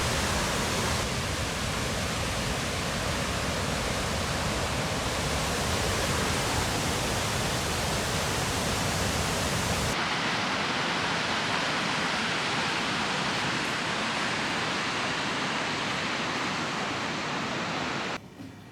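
Godafoss waterfall in northern Iceland, heard as a loud, steady roar of rushing water that fills the whole stretch without a break, with a slight drop in the low rumble partway through and no voices.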